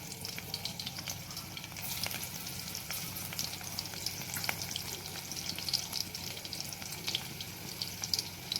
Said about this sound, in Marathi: जिरे तडतडल्यावर आपल्याला लसूण पण टाकून घ्यायचा आहे